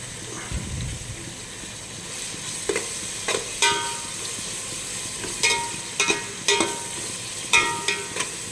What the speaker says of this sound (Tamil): இந்த வெங்காயம் ஃப்ரை பண்ண போதும்.